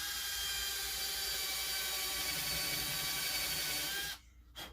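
A power drill bores a countersink hole in wood, a steady high whine running continuously at close range before cutting off abruptly near the end, followed by a brief short burst.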